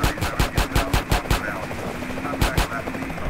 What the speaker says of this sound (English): Shoot it, CJ!